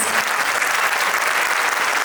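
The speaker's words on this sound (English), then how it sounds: "A big round of applause to my kids." Audience at a school annual day clapping steadily and loudly, a dense, sustained wash of applause with no pauses.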